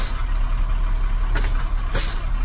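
Heavy truck air brakes hissing in sharp bursts during a pre-trip in-cab inspection, two quick releases over a steady idling engine rumble, close and fairly loud.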